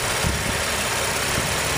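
Running V6 engine of a 2012 Chevy Impala LT with the hood open, a steady close rumble with faint mechanical ticking and a constant high whine over it, no voices.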